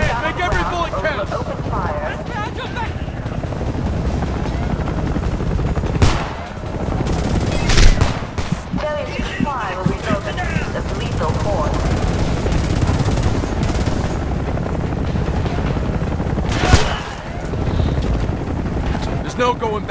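Combat gunfire in the shooter Homefront, with repeated rifle bursts and sharp shots over a droning helicopter, while voices shout throughout.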